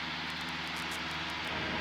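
Steady drone of a small light plane's engine during flight, loud and continuous with a broad roar and faint periodic pulsing, no voices.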